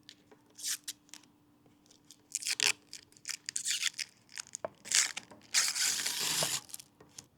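Plastic protective film peeled off a 12-inch outdoor convex mirror, heard as a series of close crinkling, tearing crackles in irregular bursts, growing denser and louder toward the end.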